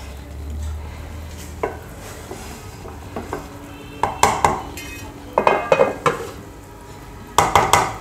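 Spoon clinking against a pot while aloo pulao is served onto a plate, with a few bright metallic clinks and scrapes in short clusters over a low kitchen hum.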